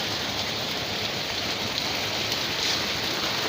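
Steady rain pours on a rainy day, a dense, even hiss of drops on surfaces with no pauses, close and fairly loud throughout.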